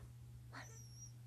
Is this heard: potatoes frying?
no